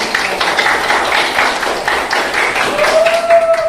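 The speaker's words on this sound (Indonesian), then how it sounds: "Oke, tepuk tangan Nasa, silakan" Students clapping in a classroom, a short burst of close, fairly loud hand claps, with a faint tonal whistle or voice rising near the end.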